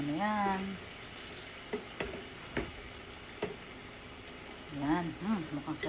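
Vegetables and seasoning stirred in a sizzling pan, steady frying hiss with scattered scraping knocks of the utensil, close up, while a person talks at the start and end.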